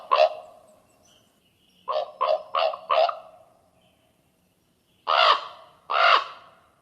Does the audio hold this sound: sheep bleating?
no